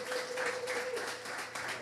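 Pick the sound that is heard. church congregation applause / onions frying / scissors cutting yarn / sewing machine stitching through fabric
church congregation applause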